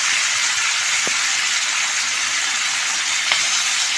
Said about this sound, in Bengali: এবার ভেজে নেব। একটু করে ভালো করে নেড়ে দিতে হবে, কেন মাংসটা হালকা করে ভাজবে।